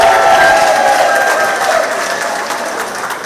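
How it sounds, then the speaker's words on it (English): Loud crowd applause with some cheering at a monthly meeting in a community centre, gradually fading over a few seconds. "Come on, give them another round of applause."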